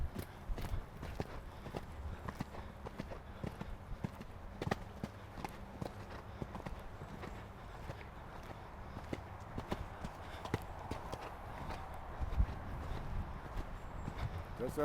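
Horse hooves clip-clop in a steady rhythm during show jumping training, moderately close, with a rider's coaching voice talking intermittently over the footfalls.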